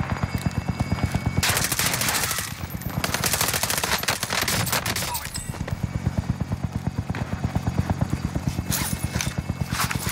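Rapid automatic gunfire rattles close behind the player in Call of Duty Vanguard Warzone, loud dense bursts running almost continuously with brief gaps.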